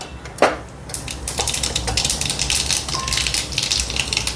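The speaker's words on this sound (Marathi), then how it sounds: "मोहरी छान तडतडली आहे." Mustard seeds crackle and pop in hot oil in a kadhai on a gas stove, a dense run of sharp, close spatters going on without a break.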